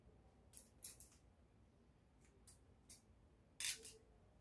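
Scissors notch the zip allowance of dress fabric for an off-shoulder bustier gown, giving a handful of sharp, quiet snips spaced irregularly over a faint hiss, with one firmer cut near the end.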